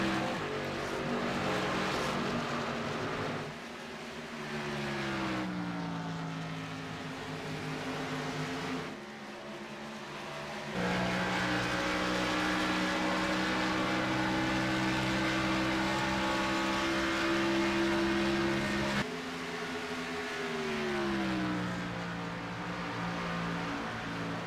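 Several race car engines in a racing video game roar and rise in pitch as they accelerate, gear changes stepping the drone up and down, loud and continuous.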